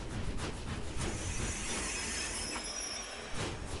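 Trains running on rails in the video game Tradewinds RPG, a steady rumbling roll with wheel squeal and a faint rhythmic clatter, continuous and fairly loud with no talk.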